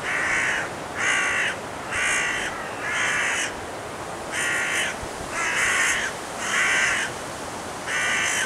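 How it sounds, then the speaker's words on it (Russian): Crows caw in a small wood near Riga among low hills, about eight loud, evenly spaced bursts of harsh calls carrying over steady outdoor ambience. "Слышно карканье ворон."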